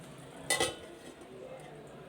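A metal lid is set onto a pan of masala cooking on the stove, giving one quick clinking clatter with a short second knock, faint and alone against quiet background.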